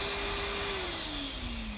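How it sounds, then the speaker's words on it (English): A vacuum cleaner hoovers dust and debris out of a BMW 1 Series or 3 Series air intake box. The motor whines steadily and loudly, and its pitch falls slowly as the nozzle works inside the box. "So let's just hoover that out before we put the new filter in."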